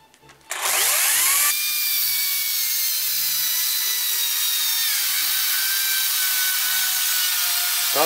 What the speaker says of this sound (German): den vorderen, den hinteren Balken um 10 cm kürzen und dann passt es